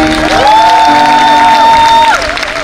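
A church congregation cheers and applauds loudly, with sustained high-pitched shouts or whoops rising over a dense crowd roar.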